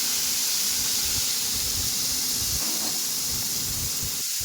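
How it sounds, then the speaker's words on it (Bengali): Spice paste tipped into a hot pan for a vegetarian doi potol curry, giving a loud, steady, dense sizzle and hiss that carries unbroken from start to finish with no talking. "পেস্টটা ঢেলা দিলাম এটার মধ্যে"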